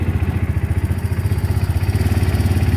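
An Allis Chalmers 7045 tractor runs in a muddy, snowy field while feeding hay to cattle, its engine giving a loud, close, steady pulsing chug with a rhythmic low throb throughout.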